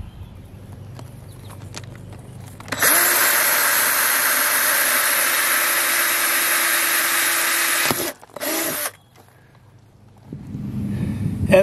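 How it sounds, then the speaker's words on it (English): Power drill boring holes into plastic vegetable containers: a loud continuous whine running about five seconds, stopping abruptly, then a short second burst, with quieter handling noise before and after. "So I'm gonna go ahead and drill the holes in these things"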